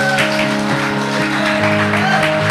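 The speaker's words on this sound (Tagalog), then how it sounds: "palakpakan natin ang Panginoon" A church congregation applauds together, a dense, steady wash of clapping that runs the whole stretch beneath sustained musical tones.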